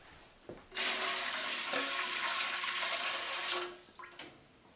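Water pours into a pressure canner, a loud continuous splashing rush lasting about three seconds before tapering off, with a few clunks around it and no talk.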